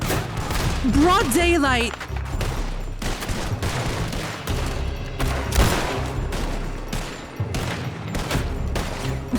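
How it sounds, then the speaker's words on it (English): Gunfire in Red Dead Redemption 2, a volley of loud close shots and repeated bangs over dense game noise, with voices talking throughout. "He just shot the man."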